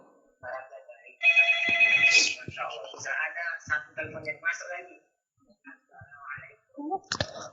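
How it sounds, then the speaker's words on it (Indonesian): An incoming-call telephone ring sounds briefly and clearly near the start during a live call-in show, followed by a person talking in short phrases with quiet gaps. "sudah ada satu telepon yang masuk lagi"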